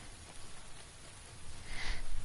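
Video game rain falls as a steady, close, broadband hiss that swells slightly louder toward the end of the short stretch, with no talking over it.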